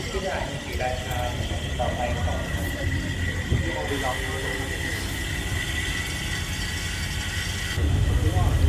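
Steady low rumble and rattle of a passenger train running from Pattaya toward Bangkok's Hua Takhe, heard from inside the carriage, continuous throughout and growing slightly louder near the end, with voices talking over it.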